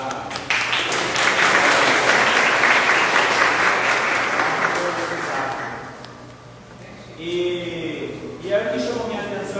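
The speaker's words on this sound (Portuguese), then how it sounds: "uma salva de palmas para o pessoal da." Applause from an audience at a talk on evangelization in communities, dense clapping for about six seconds that fades, then a voice speaks.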